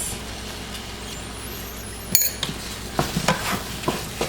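Seasoned ground meat for nachos is stirred in a pan with a low simmering sizzle, then a string of sharp spoon scrapes and clinks against the pan.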